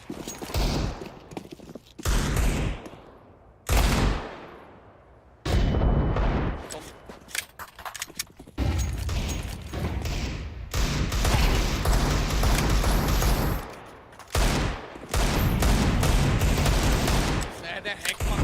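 Counter-Strike gunfire crackles in repeated loud bursts and single shots, broken by short gaps, while players talk over the action throughout.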